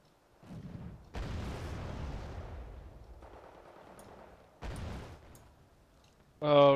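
Rifle fire in the strategy game Wargame: Red Dragon, a few separated bursts of gunfire with rumbling tails, moderately loud, followed by a brief louder sound at the end.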